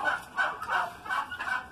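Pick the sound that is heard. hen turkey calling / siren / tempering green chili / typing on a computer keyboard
hen turkey calling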